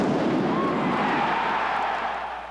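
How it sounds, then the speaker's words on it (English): An airburst firecracker device goes off in a football stadium during a Minnesota game in 1999, a loud, booming blast that rumbles and slowly fades with crowd noise beneath. "it was actually an airburst, a firecracker device that was supposed to go off after the touchdown, not before it"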